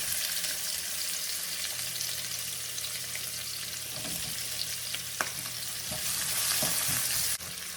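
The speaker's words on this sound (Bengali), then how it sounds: "এখন সেম তেলে আমি পেঁয়াজগুলো দিয়ে দিচ্ছি পরিমাণ মতো।" Onions sizzle and fry in oil left from frying pangas fish, a steady close crackle with occasional stirring clinks and scrapes, no talking.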